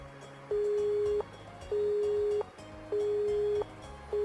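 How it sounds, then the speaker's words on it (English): Busy signal from a dropped phone call in the Nekopara visual novel: a steady electronic tone pulsing in long on-off bursts, about three and a half repeats, loud and close with no talk. "the ruthless electronic buzz of the dropped call echoed"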